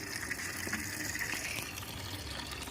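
Clothes washed by hand make a continuous rushing, splashing water sound, steady and moderately close, with no talk.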